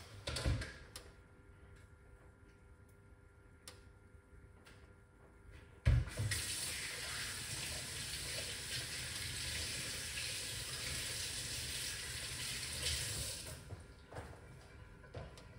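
Tap water pours steadily into a sink as ginger and bitter herbs for cerasee tea are rinsed, a broadband rush starting abruptly with a knock and running loud and continuous for several seconds before cutting off.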